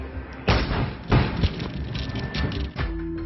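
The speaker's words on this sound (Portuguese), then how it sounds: "uma forte explosão derruba o portão de ferro" A strong explosion blows down an iron gate at a transport company during an armed attack, heard as heavy booms and thuds in a burst of loud blasts, with a sharp impact near the start and more thumps after.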